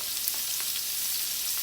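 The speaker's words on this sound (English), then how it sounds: "in a hot pan, and we're going to cook that for 3 or 4 minutes on each side." Steady, dense sizzling of steak searing in a hot pan, a continuous crackling hiss with faint pops, no voices.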